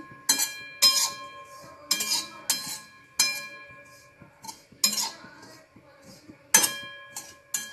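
Metal spatula strikes ring against a pan as grated coconut is roasted and stirred until browned, sharp clinks repeating irregularly, close and fairly loud with faint scraping between.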